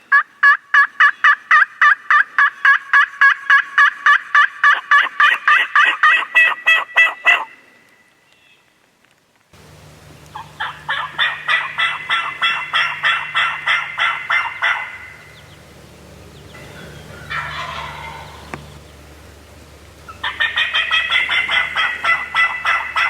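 A wild turkey gobbles in the spring woods, loud and close, in long rapid rattling bursts, with a quiet gap and faint rustling between the calls.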